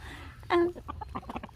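A rooster on a small backyard farm gives a short, loud cluck followed by a few softer, scattered clucks and scratchy movement nearby.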